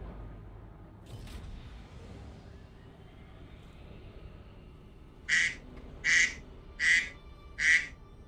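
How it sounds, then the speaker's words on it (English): A phone notification plays a duck quack sound, four evenly spaced loud quacks near the end after a quiet stretch of faint background hum. "That's my phone telling me that I have just received a package."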